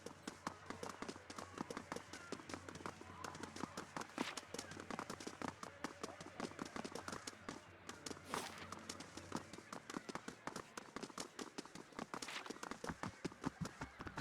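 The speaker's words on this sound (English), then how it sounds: "the footstep sound effect is going at full volume here, when characters talking doesn't" Footstep effects in the turn-based PoE video game tap out a quick, continuous patter of steps at full volume, fairly uniform in rhythm and loudness throughout.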